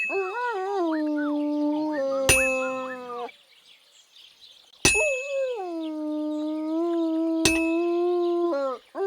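A dog in Kingdom Come: Deliverance 2 lets out long, wavering howls and whimpers, close and loud, punctuated by three sharp metallic hammer clangs from a blacksmith's forge.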